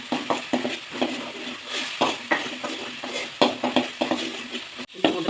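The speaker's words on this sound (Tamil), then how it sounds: "இஞ்சி பூண்டு பேஸ்ட் போட்டுக்கலாம். நல்லா வணங்கணும்." Ginger garlic paste sautés in a pan for a traditional Tamil egg curry, with a steady soft sizzle and regular scraping stirs from a spoon against the metal, fairly close and with no talking.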